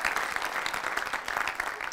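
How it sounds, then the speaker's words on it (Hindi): Clapping from an audience at a Hindi kavi sammelan poetry recital, a steady, moderately faint patter of many hands with no voices over it. "एक बार और तालियां उनके लिए इस, इस पंक्ति के लिए होनी चाहिए"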